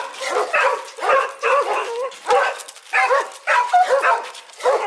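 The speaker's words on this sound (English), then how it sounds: "They hate each other, those dogs, and they always bark at each other." Two dogs bark back and forth at each other during a walk, a run of close, loud barks and yips in irregular bursts with short gaps between them.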